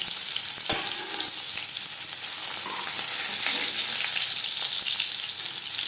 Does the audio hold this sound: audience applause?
no